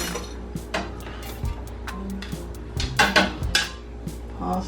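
Dishes and utensils clink and clatter in scattered bursts while baked salmon and garlic butter pasta are plated in a home kitchen, close by with no talking.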